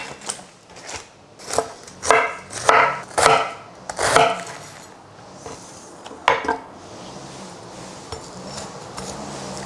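A knife finely shreds cabbage for coleslaw on a board in a rapid run of crisp, close cutting taps that thins out and stops near the end.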